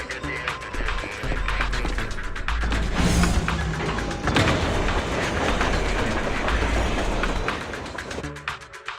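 A train rolls along in the Zenless Zone Zero video game, a loud clattering rumble with rhythmic clicks building after a quiet start and fading near the end.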